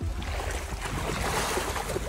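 Water in a swamp splashes and churns as alligator gars thrash, a continuous noisy wash of close splashing with no voices.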